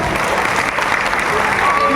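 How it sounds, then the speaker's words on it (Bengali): Sustained applause from an audience at a ventriloquist and puppet show, a steady dense clatter of clapping hands throughout the two seconds with no break. "মানুষ আর পুতুলের জন্য একটা হাততালি হওয়া দরকার।"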